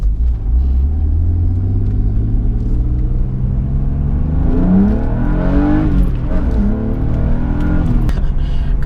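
A car with a Dinan tune accelerates hard, its engine rumble rising through the revs with gear changes, loud and close, interior perspective with talk between pulls.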